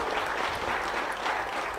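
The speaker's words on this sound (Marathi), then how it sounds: "आपण सर्वजण जरा जोरदार टाळ्या वाजवून प्रशासनाचं अभिनंदन करू." A crowd at an outdoor public gathering with a local legislator claps steadily for a couple of seconds, a dense, even patter of many hands.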